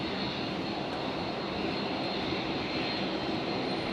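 A Singapore Airlines jet taxis past on the ground at Brisbane Airport after landing on runway 01 left, its steady engine roar broad and continuous throughout with no talk.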